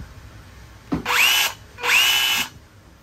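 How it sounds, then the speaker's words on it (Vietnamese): Japanese cordless hammer drill fired in two short bursts, each spinning up to a high whine, holding briefly, then cutting off, with a quiet pause between. "Đây là hai chế độ nè. Khoan với lại còn bên này là khoan có búa ha."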